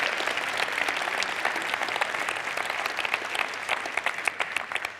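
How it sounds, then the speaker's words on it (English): Audience applause at a conference closing session, a full steady clapping from many hands that carries on throughout and thins slightly toward the end. "hand of applause"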